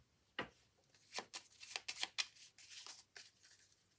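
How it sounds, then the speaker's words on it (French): Tarot cards shuffled and spread out by hand in a quiet room, a run of soft riffling flicks and papery slides arriving in irregular bursts, close and fairly faint. "Les cartes ne s'étalent pas très bien."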